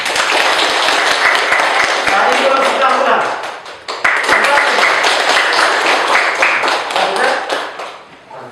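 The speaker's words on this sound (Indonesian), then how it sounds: "tepuk tangan untuk kalian semua" Classroom students applauding together, a dense, steady wash of clapping hands that briefly dips near the middle and fades at the end, with a teacher's voice speaking briefly over it.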